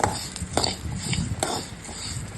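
Onion and garlic are stirred in a pan for a tomato kuzhambu, a spatula scraping and tapping the metal with a couple of distinct knocks over a soft steady sizzle, close by.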